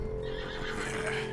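A horse in Red Dead Redemption 2 whinnies loudly and continuously, a shrill drawn-out neigh over a steady low rumble, with faint hoof clatter beneath.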